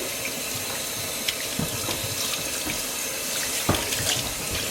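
Tap water runs steadily into a sink as a six-week-old Aussiedoodle puppy is rinsed, a loud, continuous splashing rush close by with no talking.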